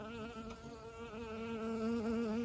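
Honeybees drone around the hive entrance, where guard bees confront a stranger, a close, steady buzzing hum that swells slightly louder toward the end, with no talk.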